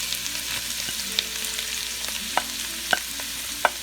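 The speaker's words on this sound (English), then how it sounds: "now mix and saute the carrot with the ghee and the nuts nicely" Grated carrot sautéing in ghee with lightly browned nuts for gajar ka halwa, a steady soft sizzle with scattered spoon scrapes and clinks against the pan.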